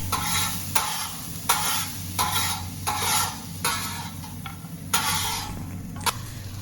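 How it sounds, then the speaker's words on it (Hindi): Sliced onion frying in cooking oil in a pan and being stirred, a steady sizzle broken by a sharp scrape of the spoon roughly every second, close and fairly loud with no voices. "इसमें थोड़ा सा कुकिंग ऑयल डालकर इसमें 1 अदद स्लाइस प्याज डालकर इसको हल्का सा ब्राउन कर लेते हैं"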